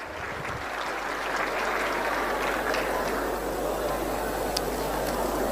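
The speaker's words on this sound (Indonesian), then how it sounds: "Berikan tepuk tangan, berikan plus untuk semua." An audience claps in steady applause at an Islamic lecture, a dense continuous patter from a crowd in a large hall that holds for several seconds under a low hum.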